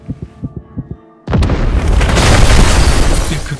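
A bomb explodes at a hospital: after a low rhythmic thumping pulse and a brief hush, a sudden loud booming blast erupts and rolls on as a dense rumbling roar.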